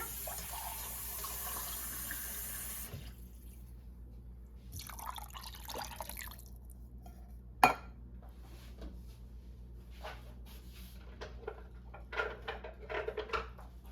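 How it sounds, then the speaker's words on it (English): Water is poured into a cooking mixture of cream of chicken soup and cream cheese. A short rushing pour is followed by quiet drips, light splashes and small kitchen clatters. "I'm going to put a little bit of water in there."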